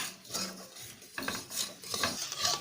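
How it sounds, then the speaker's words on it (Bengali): Fried peanuts being stirred into thick, sticky sugar syrup, giving a steady scraping, rasping churn in short repeated strokes, close up with no talking. "বাদামগুলো চিনির সাথে মিশিয়ে নেব।"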